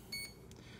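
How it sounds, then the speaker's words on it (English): A single short electronic beep from a Pro Boat Zelos 36 boat's electronic speed controller during programming, faint and high-pitched, over a low background hum. "Now we'll get one beep."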